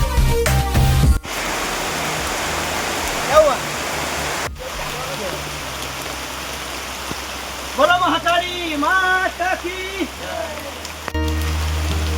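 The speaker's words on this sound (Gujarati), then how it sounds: "ઝીણો ઝીણો વરસાદ આવે છે" Light drizzle falls on Pavagadh hill, a steady soft hiss of rain throughout, with brief voices and a few clicks and bumps breaking in now and then.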